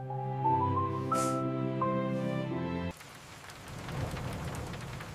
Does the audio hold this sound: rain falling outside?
yes